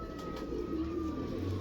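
Male pigeons in a loft give a low, steady cooing drone, quiet and continuous for just over a second, with faint background hum and no voices.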